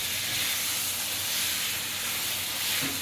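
Rice wine hits a hot pan in a ramen kitchen, sending up a loud, close, continuous hiss of steam that stays level throughout with no talking.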